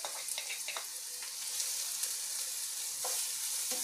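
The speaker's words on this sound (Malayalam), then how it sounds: "നമുക്ക് ഇഞ്ചി വെളുത്തുള്ളി പേസ്റ്റ് ഇട്ട് കൊടുക്കാം" Ginger-garlic paste fries with onions in a pan for a Kerala-style beef dum biryani. A soft, steady sizzle carries a few quiet stirring taps.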